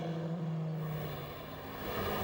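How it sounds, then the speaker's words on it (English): A 650-horsepower race car at speed, with tire roar and drivetrain whine forming a dense continuous rumble and hum, loud and close, engine noise muted, no voices. "You can hear the tires."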